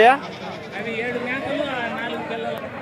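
Goats bleat repeatedly at a busy weekly livestock market in Kadiri, their wavering cries rising over crowd chatter and nearby voices in a steady, close din.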